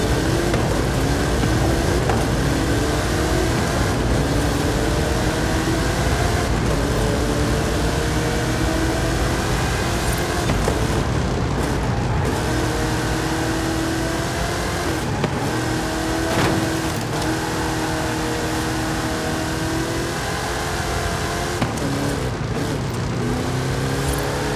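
Hot Wheels cars roaring through a drag race in the Forza Horizon 5 video game, loud sustained engines revving and rising through gear changes, steady and close for the whole stretch, with no voices.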